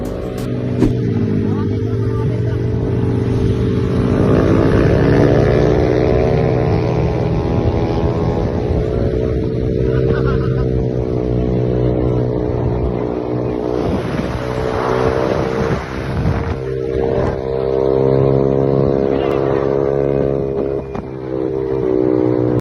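A group of motorcycles ridden at high speed on a toll road in North Jakarta roar past close by in a sustained, rising and falling engine drone with strong harmonic whine, a voice speaking over part of it.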